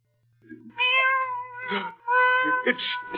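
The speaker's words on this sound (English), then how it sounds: "Where in blazes that cat come from?" A black cat meows several times in a radio drama, clear, drawn-out harmonic cries close to the mic, one after another, with no talking over them.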